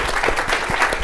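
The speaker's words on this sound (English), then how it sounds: "round of applause" Conference attendees at an animal-sheltering session break into a round of applause, a thick, continuous patter of many hands heard close and alone.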